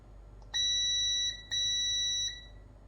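A continuity tester gives two loud, clean electronic beeps, each about three quarters of a second long, while probing the metal shield connection on a phone during repair.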